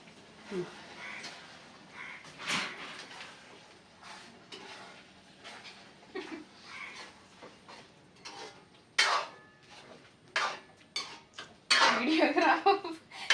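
Powdered jackfruit and cumin scraped around a pan for a Kerala sweet, with repeated metal clinks and scrapes of a spoon against the pot, growing louder and busier toward the end, with some faint talk.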